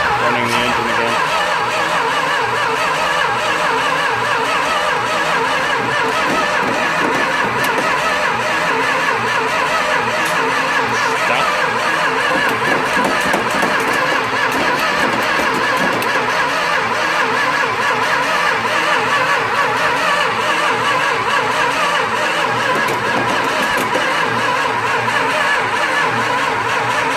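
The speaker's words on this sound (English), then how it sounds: "here we are running the engine again" A 1966 Plymouth Fury engine runs steadily at a rough, even idle for the whole stretch, a loud, close, continuous mechanical drone with no talking over it.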